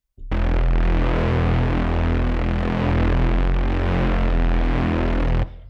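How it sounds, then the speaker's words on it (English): A heavily distorted Reese bass synth patch built in Serum for bass house drones as one sustained, thick, gritty note with a slow throbbing phase movement, loud and alone. "Really nasty but cool Reese bass."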